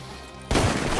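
A gunshot in the video game Red Dead Redemption 2 bursts in abruptly after a quiet stretch, a loud, dense blast whose roar holds steady to the end.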